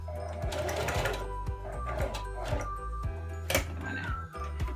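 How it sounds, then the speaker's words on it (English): A sewing machine stitches through all layers of a tube dress, its motor whirring with a rapid, regular mechanical clatter of the needle, close and continuous with brief changes in pace. "you're just going to sew through all thickness"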